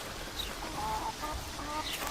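Backyard chickens kept by a home gardener cluck in a continuous run of soft, overlapping calls, moderately near and with no talking.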